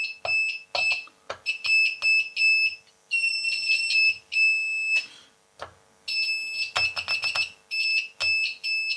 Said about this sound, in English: let's test with my continuity tester. It's just going to beep when there's a good connection